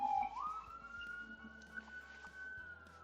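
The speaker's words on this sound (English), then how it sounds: "oh, what is this? Fire alarm." A fire alarm sounds in the background of a live chess broadcast, a steady high electronic tone running throughout at moderate level over faint room noise.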